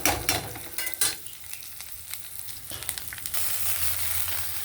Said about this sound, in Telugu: ఈ మిరపకాయలు అవి బాగా వేగుతాయి